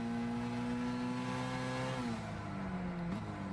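Car engine in Gran Turismo 6 heard from a chase camera, a steady loud drone holding pitch, then dipping at a gear change and rising again, with no talk over it.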